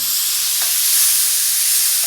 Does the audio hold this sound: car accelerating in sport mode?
no